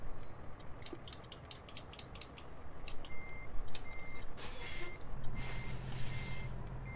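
A long-nosed Peterbilt truck in American Truck Simulator sounds a rapid string of reversing beeps over low engine rumble, followed by a sharp burst of air-brake hiss and a deeper idling drone.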